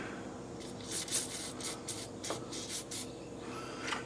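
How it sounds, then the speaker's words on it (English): Kroil penetrating oil sprayed onto a steering part of an F-350, a series of faint short hissing spurts and light rubbing sounds, close and quiet. "We'll put a little Kroll oil on there."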